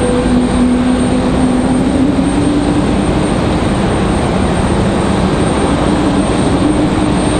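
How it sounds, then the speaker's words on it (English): Delta Airbus A220 airliner moving on the ground at Raleigh-Durham airport, a loud, steady engine roar with a faint whining tone that holds throughout without letting up. "Oh, I hear our A220 on the move. Is that our Delta A220?"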